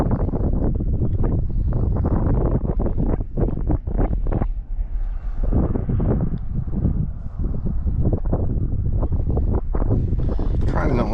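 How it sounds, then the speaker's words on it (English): Wind gusts buffet the microphone on a fishing boat in the California Delta, a loud, constant rumbling roar that fills the clip with steady rough blasts and no clear talk. "Trying to not let the wind get too much into it."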